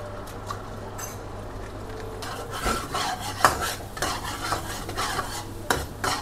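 Boiled noodles stirred with sambal tempe paste in a pan, a utensil scraping and clinking against metal in irregular strokes with a soft sizzle, fairly close and alone without talk.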